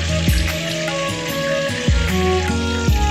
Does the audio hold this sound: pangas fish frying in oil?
yes